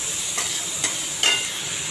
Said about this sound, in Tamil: இதை போட்டு வதக்கணும். இது ரொம்ப வதக்க வேண்டாம், ஜஸ்ட்டு வெங்காயம் வேகிற ஸ்டேஜ்